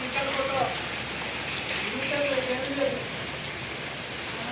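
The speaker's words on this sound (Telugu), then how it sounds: "ఇక వడగండ్ల వాన అయితే పడుతుంది ఫ్రెండ్స్ మా సైడ్" A hailstorm with rain comes down in a dense, constant patter on surfaces outdoors. Faint voices and other sounds drift through in the background.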